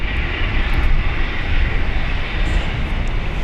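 Jetstar airliner taxiing at Brisbane Airport, its engines a steady, loud, broadband rumble and whine that holds without pause.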